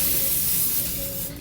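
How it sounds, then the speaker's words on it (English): A steady aerosol hiss of cooking spray onto foil sprays continuously for about a second and a half, close and fairly loud, tapering slightly before stopping. "you're gonna spray your foil"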